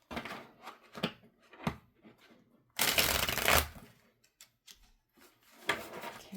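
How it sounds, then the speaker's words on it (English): A deck of tarot cards is riffled and bridged up close, with a loud whirring shuffle in the middle, surrounded by soft taps and card handling. "Okay, let's go one more shuffle."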